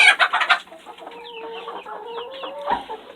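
Chickens on a farm cluck and murmur steadily at close range, with a louder burst of calls at the start and a sharper squawk near the end.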